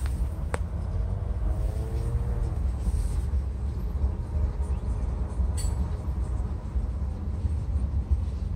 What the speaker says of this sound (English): I feel like that NS train is tucked behind those trees.